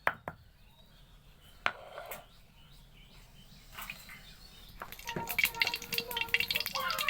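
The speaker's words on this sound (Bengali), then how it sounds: "আদা ছেঁচে দেওয়া হচ্ছে" Ginger crushed for vegetarian moong dal, with a few sharp, close knocks early on and then a busier, denser clatter of pounding toward the end, all at a fairly low level.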